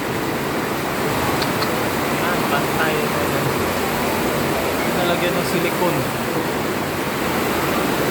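Heavy rain pours down in Cainta, a steady, dense roar with water leaking and dripping close by, continuing for the whole stretch while people talk over it.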